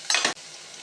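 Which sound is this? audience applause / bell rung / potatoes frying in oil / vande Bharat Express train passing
potatoes frying in oil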